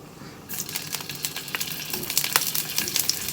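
Fresh shrimp hit hot oil in a frying pan and start frying, a sudden loud sizzle with crackling pops that continues close up.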